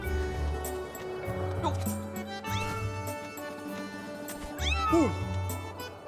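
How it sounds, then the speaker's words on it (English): A cat-like creature meows several times in rising and falling cries amid a busy, layered soundtrack with background music and effects in The Legend of Zelda: Skyward Sword HD. "Ooh, sounds like a cat."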